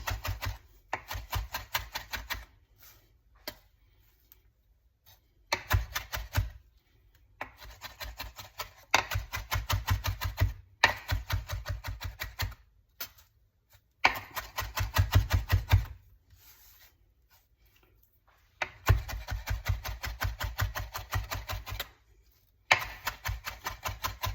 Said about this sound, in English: Mincing, generally my technique is just to hold the tip of the knife down and then kind of go across the product in an arc